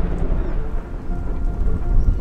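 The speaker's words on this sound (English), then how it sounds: "There's definitely a thunderstorm over there." Distant thunder from a thunderstorm rolls as a low, continuous rumble, swelling slightly toward the end with no voices.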